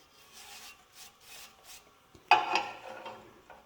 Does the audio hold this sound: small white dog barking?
no